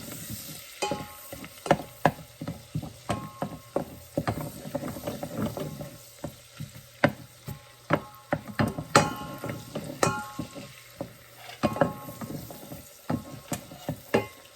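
Bacon and shallots cooking down in a pan for pumpkin soup, a steady quiet sizzle broken by frequent scraping stirs with a utensil.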